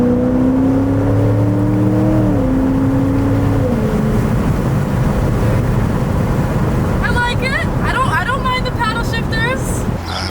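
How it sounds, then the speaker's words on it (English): A manual-gearbox Corvette on a test drive, with a steady engine drone and whir at low speed, a shifting engine note early on, and faint higher whines toward the end. "We're about to test drive the Corvette."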